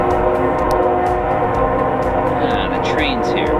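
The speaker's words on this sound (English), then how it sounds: "The train's here." Train passing near an outdoor workshop where a welded metal rocket stove burns: a constant loud low rumble with rolling rail noise, topped late by rising and falling high squeals.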